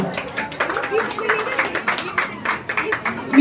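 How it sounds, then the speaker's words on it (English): A school audience applauds young performers at a culmination day event, with uneven clapping from a moderate crowd that swells and dips in irregular bursts, and voices murmur underneath. "Huge round of applause for our confident performers"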